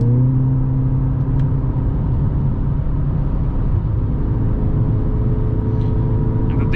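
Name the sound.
2021 Mercedes GLA 45 S AMG accelerating toward 160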